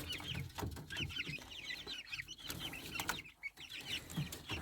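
Young chickens, some of them silkies, cluck and chirp softly in an unheated room, with a busy run of short repeated calls close by and a little rustling beneath them.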